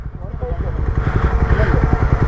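A motorcycle engine idling close by on a trail ride with a biking group, a steady rapid low putter pulsing evenly for a couple of seconds.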